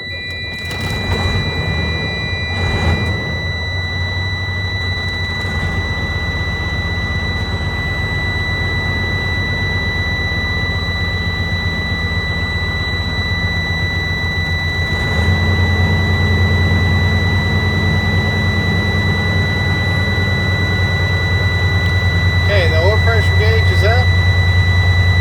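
A Freightliner truck's diesel engine idles with a steady low rumble that grows louder partway through, while a thin, continuous high warning buzzer sounds throughout, and a voice briefly chirps near the end.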